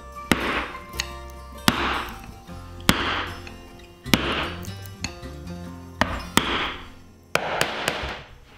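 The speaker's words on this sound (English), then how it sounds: "once you start to get a little depth, then you can hit the chisel a little bit harder" A mallet strikes a chisel while cutting dovetail pins in black walnut for a fine furniture table, about seven sharp, ringing knocks spaced roughly a second apart, close and loud, with no talk.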